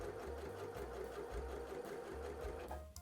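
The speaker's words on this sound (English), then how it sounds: "And now we can stitch right down the edge of the twill tape" Sewing machine stitching along the edge of twill tape on a duster garment, a steady close mechanical whir with a fast rhythmic needle chatter running alone.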